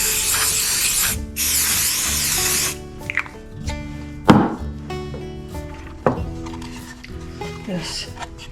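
CA glue activator sprayed from an aerosol can in short hissing bursts, loud and close, followed by quieter handling clicks and taps in a workshop.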